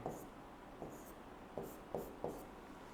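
Pen strokes scratch faintly on paper as letters are written one at a time: five short, separate scrapes spaced irregularly in a quiet room.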